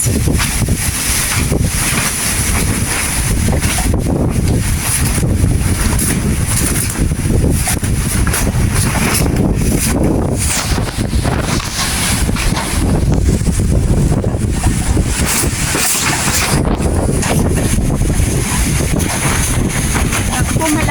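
Powerful wind from Super Typhoon Leon on Calayan Island, with little rain, roars steadily across the microphone for the whole stretch, loud and blustery, with gusts rising and falling.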